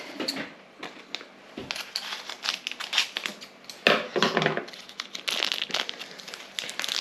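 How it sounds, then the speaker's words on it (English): Scissors snip and crinkle through a plastic feta cheese packet in a kitchen, a close, irregular run of rustling cuts and crackles with no talking. "So I'll get the scissors."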